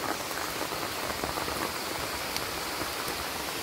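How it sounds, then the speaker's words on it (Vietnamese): Heavy rain pours steadily in a rainforest, a dense, even hiss of drops on surfaces all around, constant and moderately loud with no voices. "Bên ngoài vẫn đang mưa ầm ầm rồi."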